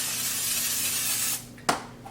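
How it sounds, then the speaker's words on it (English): Olive oil cooking spray hisses steadily into a pot in a kitchen for over a second, close and loud, then stops, followed by a brief clack as the can is set down. "I'm just going to spray a little bit of the olive oil spray in here"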